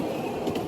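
Trains running on a model railroad layout at a club gathering, a close, steady rumble with faint rhythmic clicking, no talk heard.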